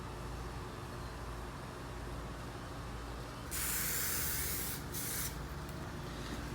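Spray paint hissing onto Foxbody window trim in two short bursts, a longer blast followed by a brief second one, close and loud against a faint background hum.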